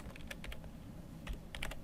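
Rapid keystrokes on a computer keyboard while a network command is entered to set an IP address on an Ethernet card, with two quick clusters of close, crisp taps separated by a brief pause.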